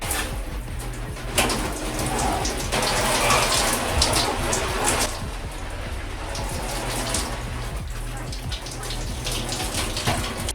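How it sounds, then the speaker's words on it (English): Cold water from a shower runs in a steady broadband hiss with gushing and splashing, shifting slightly as it falls, continuous and fairly close throughout. "To begin, as always, I let the water run and wait for it to get cold."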